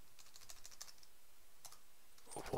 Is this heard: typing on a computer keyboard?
yes